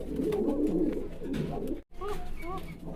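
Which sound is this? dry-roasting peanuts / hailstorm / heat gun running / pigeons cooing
pigeons cooing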